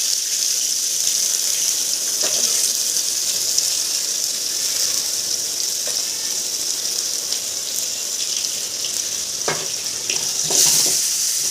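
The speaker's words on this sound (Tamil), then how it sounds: "இப்போ வந்து நான் கட் பண்ணி வச்சுருக்க வெங்காயத்தை வந்து ஆட் பண்ணி நல்லா வதக்கிக்கிறேன்." Chopped onions with spices sautéing in a pan for a goat blood fry, a continuous sizzle with occasional stirring clatter and scrapes, no talking.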